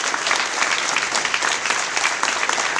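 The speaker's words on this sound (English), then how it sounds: "give yourselves a round of applause" Steady, dense clapping from a sizable audience at a Mortal Kombat 25th anniversary convention panel fills the whole stretch, loud and even with no pauses.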